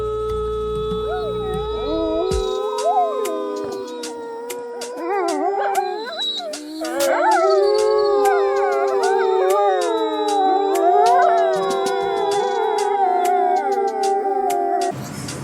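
A husky howls in long, wavering, rising and falling tones, with several overlapping howls joining in partway through, loud and close, with some yips and whimpers between the drawn-out notes.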